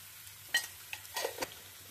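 Grated raw mango with salt and turmeric is stirred in a pan, a quiet soft sizzle broken by a few light scrapes and clinks of the spoon against the pan.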